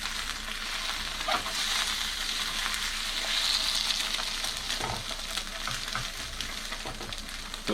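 An egg sizzles and fries in a freshly seasoned Cainfy pan, a hexclad-style copy, with a steady crackling hiss and a few soft scraping knocks as it is flipped, no talk.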